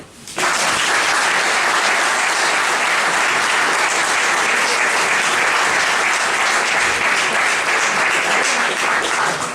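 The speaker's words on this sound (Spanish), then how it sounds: "Un aplauso." Audience applause at a tribute talk for a doctor in a cultural centre hall, sustained loud clapping from a full room that starts abruptly and carries on evenly throughout.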